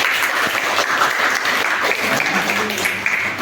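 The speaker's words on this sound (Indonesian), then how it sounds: "Tepuk tangan untuk semua kelompok." Classroom audience applauding the presenting student groups during a teaching session, a steady dense burst of clapping from many hands, close and loud throughout.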